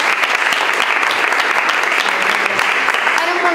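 An audience at a cultural forum applauds on request, a dense, loud and steady wash of many hands clapping together for a few seconds without pause.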